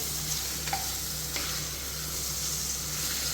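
Tomatoes and masala sauté in a hot pan for a groundnut and brinjal biryani, a steady close sizzle and hiss running throughout with a few soft stirring scrapes.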